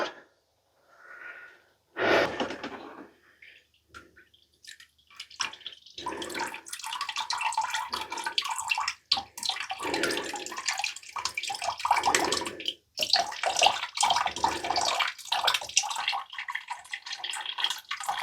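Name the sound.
creek water flowing from off-grid plumbing pipe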